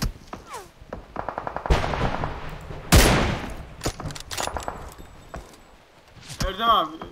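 Gunfire in PUBG Mobile, heard as rapid bursts of shots with one loud sharp blast near the middle. Players talk over the shooting throughout.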